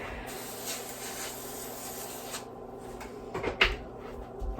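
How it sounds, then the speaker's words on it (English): A spray bottle mists down an isopod culture in a long continuous hiss for a couple of seconds, followed by quieter rubbing and a short sharp spritz near the end, recorded up close. "So now I'm gonna spray down the culture."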